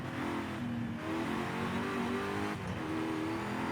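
An A-class race car in Forza Horizon 5 accelerating hard, a steady loud engine roar with rising revs and a brief gear change, alone without talk.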